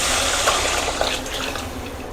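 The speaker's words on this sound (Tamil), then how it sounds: "இப்போ நம்ம மசாலா தண்ணி ஊற்றுவோம்" Tamarind, tomato and salt masala water poured into a pan of Tamil kara kuzhambu, a steady close gush of liquid lasting the whole moment with no talk.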